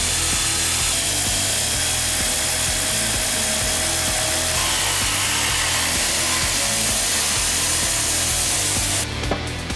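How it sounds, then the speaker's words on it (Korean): A saw cutting through marble slabs at a marble quarry, a loud continuous grinding rasp with a steady rhythmic pulse, close and unbroken before it briefly changes at the very end. "겉돌을 깨부수고 나면 한 장 한 장 돌을 잘라낸다."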